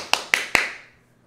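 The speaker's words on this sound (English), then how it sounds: "Catch a big fish and you clap." Three sharp hand claps made while wearing fishing gloves on a boat during tournament practice, evenly spaced and close, each with a short ringing decay.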